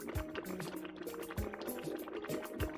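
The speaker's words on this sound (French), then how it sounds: "elle alluma un feu pour sa marmite remplie de bouillon." A cartoon-style bubbling broth in a witch's cauldron over a fire, with continuous liquid gurgling and regular deep bloops popping at a slow, steady rhythm.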